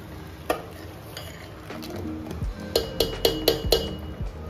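A spoon stirs a blended curd, tamarind and gram flour mixture into fried onions in a pan for kadhi, giving repeated sharp metallic clinks against the vessel over a soft, steady sizzle.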